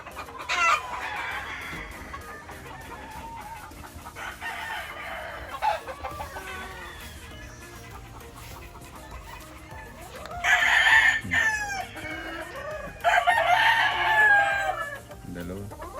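Hens cluck at a gamefowl farm while roosters crow in several loud, drawn-out calls, with a person talking intermittently nearby.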